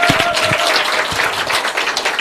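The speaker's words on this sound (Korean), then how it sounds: "박수 한번 주세요." Audience clapping fills a short stretch at a business seminar for a new network-marketing venture, a steady, fairly loud crowd applause with a few sharper individual claps near the start.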